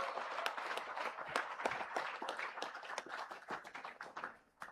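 A political party launch crowd claps for those on stage, loud, dense applause with sharp individual claps standing out, sustained for a few seconds then thinning at the close.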